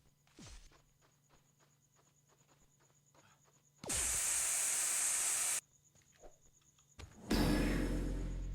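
A can of Lysol disinfectant spray hisses in a video game, two loud sustained bursts of about two seconds each over quiet ambient footsteps and insect-like noise.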